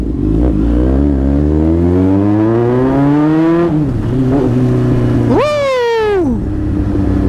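Kawasaki Z800 motorcycle fitted with an Austin Racer exhaust, loud and close, its engine note climbing steadily through one long rev, dropping, then snapping up in a sharp throttle blip before falling back to idle.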